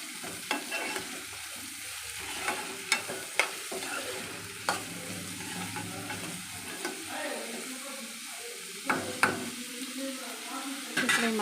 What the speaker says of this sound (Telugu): ఆయిల్ వేడెక్కిన తర్వాత ఇప్పుడు ఆయిల్ వేడెక్కింది కదా,